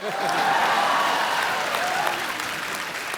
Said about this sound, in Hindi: मेरे कुर्ते के लिए जोरदार तालियां।